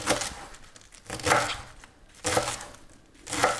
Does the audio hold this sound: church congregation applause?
no